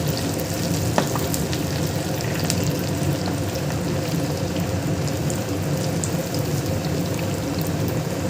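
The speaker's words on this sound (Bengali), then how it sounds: "এই দেখো ভাজা হচ্ছে, আরো কড়া ভাজা হবে" Bitter gourd slices coated in gram flour fry in hot oil over a high flame, giving a steady, loud, dense crackling sizzle throughout with one sharp pop near the start and no voices.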